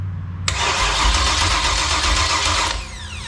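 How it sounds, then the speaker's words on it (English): A K5 big-block engine on a homemade stand cranks over on the starter without firing, a loud steady churning that runs for over two seconds and then cuts off, with no talk. "let's roll it over and we'll see. Okay, rolling over of the engine."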